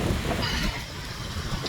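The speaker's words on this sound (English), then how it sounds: "Really, really windy and cold." Strong, cold wind buffets the microphone outdoors on an autumn walk among fallen leaves, a loud continuous roaring rush with no talking.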